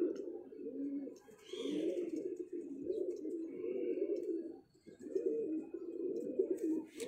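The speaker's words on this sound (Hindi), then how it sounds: "बड़ा मुलायम किस्म का कबूतर है।" Pigeons cooing in a loft of bloodline racing pigeons, low rolling coos repeated in steady phrases with brief pauses, close and fairly quiet, with a few faint chirps and distant sounds behind.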